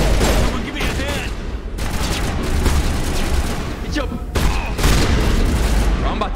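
Pistol gunfire in the Mass Effect video game, repeated shots and impacts crackling through a dense, loud combat mix with steady battle noise throughout.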